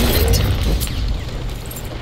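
Tank shelling in the video game Battlefield 1 makes a loud, continuous booming rumble of explosions that fades slightly over the short stretch.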